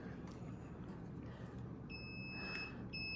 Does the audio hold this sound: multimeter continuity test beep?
yes